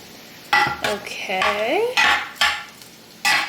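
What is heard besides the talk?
stirring vegan rice dressing in a pot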